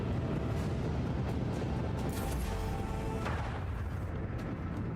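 Cannons in Warhammer 40k: Rogue Trader boom in a dense, steady barrage, loud and close, with overlapping blasts and no talk.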